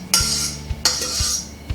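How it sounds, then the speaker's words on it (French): Spoon scraping and clinking against a metal saucepan and bowl as date purée for almond-chocolate energy balls is transferred, with several sharp metallic knocks spaced through close, clear kitchen sound, no talking. "par souci de vaisselle, c'est mieux de transvider dans un bol"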